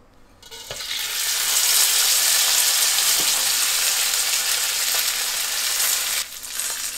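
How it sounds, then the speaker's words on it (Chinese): Sichuan peppercorns frying in a dry-heated wok, a steady loud hiss and crackle that starts abruptly and holds for several seconds, with a few faint stirring knocks and a brief dip near the end. "开始炸花椒"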